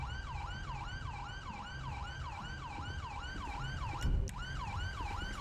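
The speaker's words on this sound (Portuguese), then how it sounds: "chegou o IML, chegou a ambulância" An ambulance siren in the video game GTA 5 wails in a steady, rapid up-and-down cycle, loud and continuous, with a brief thump partway through.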